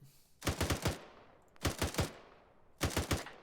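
Gunfire on a military field training exercise: three sharp bursts of automatic fire, each four or five rapid cracks, spaced about a second apart, loud and close, with short echoing tails between bursts.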